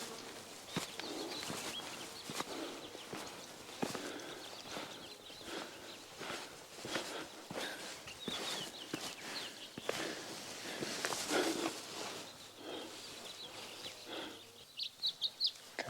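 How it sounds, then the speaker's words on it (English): California quails calling to each other from deep in grass outdoors in spring, faint and distant among other birdsong, with occasional nearby footsteps and rustling. "There's California quails calling to each other down there, but they're deep in that grass."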